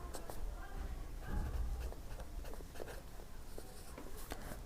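Chalk or pen scratches out figures during a Class 10 Hindi-medium math lesson on quadratic equations, quick tapping strokes and short scrapes in a faint, close, roomy wash.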